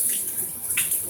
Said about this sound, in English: Sometimes I wash my hands twice